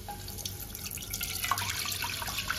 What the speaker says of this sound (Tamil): நான் எடுத்த 1 கப் அளவு குதிரைவாளிக்கு 4 கப் அளவு தண்ணி ஊற்றிருக்கேன்.